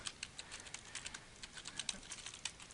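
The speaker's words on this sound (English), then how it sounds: "I'm going to type it in my password" Someone types a password on a computer keyboard. The keystrokes are quick, light and irregular, a steady patter of soft clicks heard close but faint, with no voices.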